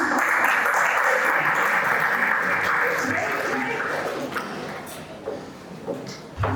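Audience applause after a child's recital of Roald Dahl's Cinderella in a theatre setting, a dense, steady wash of many clapping hands that holds loud for several seconds before thinning out toward the end.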